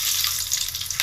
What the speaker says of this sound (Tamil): ஃபஸ்ட்டு வெந்தயம் போட்டுக்கலாம்,